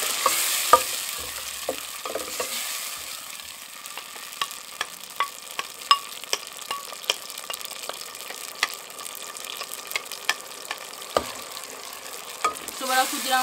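Tomatoes and pepper fry in a pan for pilau, a soft steady sizzle broken by frequent sharp spoon taps and scrapes against the metal, close up with no voices.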